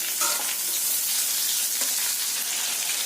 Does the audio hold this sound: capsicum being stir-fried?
yes